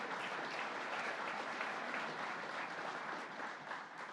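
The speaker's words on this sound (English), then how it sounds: "So let's give, of course, Chairman Zemsky a big round of applause." A crowd at a government announcement event for a workforce training center claps in a steady, dense wash of applause, even and sustained from start to finish, fairly distant and soft.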